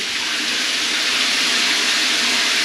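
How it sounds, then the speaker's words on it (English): Water running steadily through a Triton Amore electric shower, a loud, continuous broadband hiss of spray with no pauses and no voices. "And straight away, the water's coming through."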